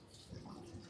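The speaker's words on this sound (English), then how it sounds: "So if we simply turn on the bait tank pump" The bait tank pump on a Stabicraft 2250 boat filling the live well: a steady rushing, splashing flow of water heard close and moderately quiet throughout.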